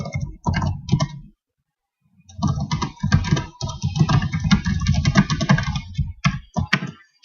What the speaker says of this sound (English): I'm going to come in here and I'm going to type in my text